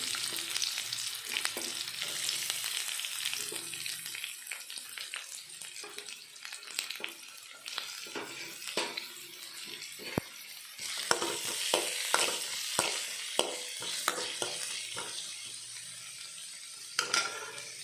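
Chopped onions fry in oil for a village-style mochai brinjal kuzhambu, a continuous hissing sizzle broken by repeated spatula scrapes and clicks against the pan, close up with no talk.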